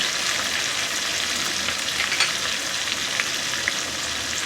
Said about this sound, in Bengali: মশলাটা আমি খুব ভালো করে কষিয়ে নেব।